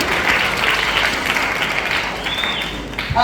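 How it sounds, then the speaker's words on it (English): A crowd at a women's entrepreneurship event applauds Mama Pili with dense, steady clapping that fills a few seconds, and a short sharp sound comes at the very end. "Can you give a round of applause to Mama Pili?"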